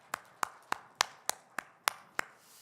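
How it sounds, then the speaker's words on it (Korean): A church congregation claps in unison during a revival service, eight sharp, evenly spaced claps in a steady beat before a brief quiet tail. "우리 찬양과 영광 받으신 하나님께 다시 한번 큰 박수 올려드릴까요?"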